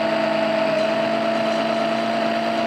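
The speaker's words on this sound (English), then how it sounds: "Now you can see here it's starting to draw air on the suction pump in around the engine." A suction pump draws warmed oil from a Seadoo Spark engine, a steady close mechanical hum with a constant tonal whine and no pauses or talk.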